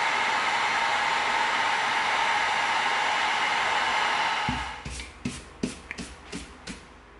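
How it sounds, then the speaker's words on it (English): A heat gun blows a steady, loud airy roar while sealing EVA foam, then cuts off and leaves a few soft handling taps and knocks. "Let's get our heat gun out. Let's seal it up."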